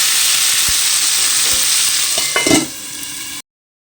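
Potato, tomato and paneer curry sautéing in a pan gives a steady, close hiss of sizzling with a few soft scrapes and knocks from stirring, then cuts to silence just before the end.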